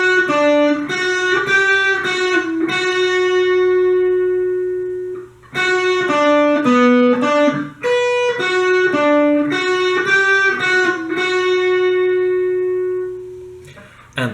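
An electric guitar plays a riff, a close, clean-toned sequence of picked notes and ringing held notes, repeated twice with a short gap and no talking.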